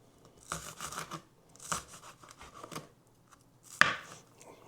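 Green onions chopped with a knife on a board in short bursts of rapid cuts, close and moderately quiet, ending with one sharper knock.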